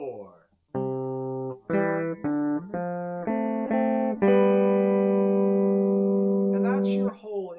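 Guitar picks out the intro riff of a song as a string of clear single notes and short held tones, close and alone, ending on a longer sustained note.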